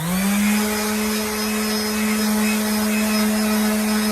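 Steady mechanical whir of a power sander working 180-grit abrasive over rusty chrome, a constant droning hum with harmonic tones holding level throughout, close and loud with no talking.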